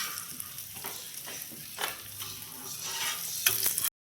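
Daal shami kebabs shallow-frying in hot oil for a Ramadan dish, giving a steady crackling sizzle with sharper spatters and stirring clinks, close and moderately loud, with no voices.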